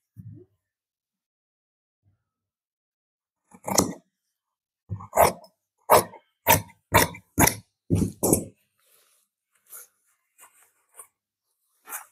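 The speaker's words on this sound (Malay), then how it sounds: "kemudian kita potong lah" Scissors cutting camouflage army uniform fabric, a quick series of crisp snipping cuts close by in bursts, then a few lighter scattered snips, with quiet gaps between.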